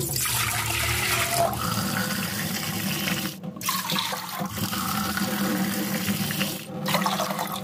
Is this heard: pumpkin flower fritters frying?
no